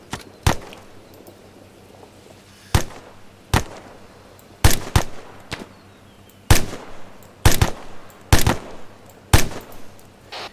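Rifle and machine gun fire in ArmA 3 comes as scattered loud cracks and quick doubled bursts, spaced unevenly over a quiet background, with some shots close and others a bit more distant.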